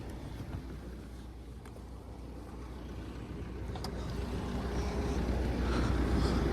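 Steady low rumble of a 2013 Nissan Qashqai+2 1.6 diesel engine idling, close and continuous, growing slightly louder, with faint wind-like hiss and no speech.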